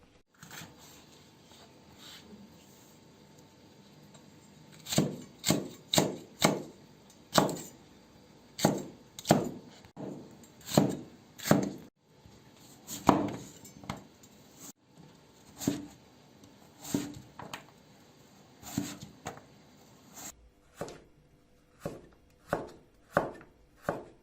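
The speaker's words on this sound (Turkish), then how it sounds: "Evet garnitürlerimizi kesmeye geldik şimdi." A knife chops green peppers, red peppers and potatoes on a cutting board, with irregular knocks that quicken into a faster, steady rhythm near the end. The chopping is close and clear.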